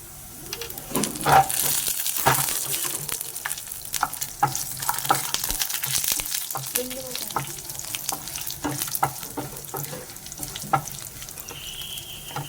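Cumin seeds crackling in hot oil for a dal tempering, a busy sizzle full of sharp pops and spatters alongside stirring clatter, fairly close and loud.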